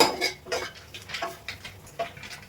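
A metal spoon scrapes and clinks against a pan while chilli powder and coriander powder are stirred for a prawns roast, a series of sharp scraping strokes roughly every half second with quiet gaps between them.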